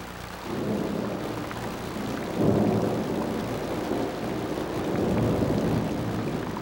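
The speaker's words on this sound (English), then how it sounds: "It's a truly torrential downpour." Torrential desert downpour with rolling thunder, a steady roar of heavy rain over a broad low rumble that swells in waves, loud and close, with no voices.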